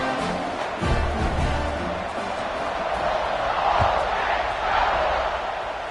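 A packed college football stadium crowd at an Ohio State versus Ole Miss game roars in a loud, steady swell of cheering, with a commentator talking over it.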